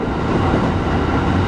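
A JR East Hachiko Line train running between Haijima and Komagawa: a loud, steady rumble of wheels and car noise, continuous and close, with no distinct clatter standing out.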